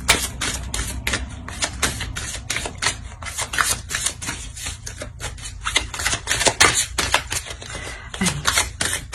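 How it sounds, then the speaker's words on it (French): A dense, rapid run of papery snaps and flicks as a tarot card is drawn from a deck and laid down, continuous and close throughout. "Je vais rajouter une carte."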